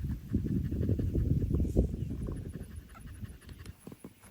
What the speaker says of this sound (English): It's pretty hot today, so she's panting a lot.